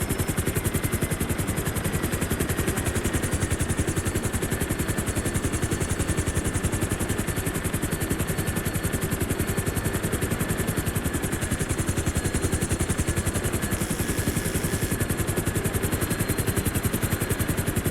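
A helicopter in Grand Theft Auto V hovers with a loud, steady rotor chop and engine whine throughout, close and continuous with no talk.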